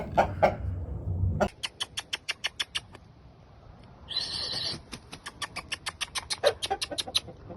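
Shamo fighting rooster making a rapid run of short, sharp repeated calls, with a brief harsher burst in the middle, close and fairly loud, no talk.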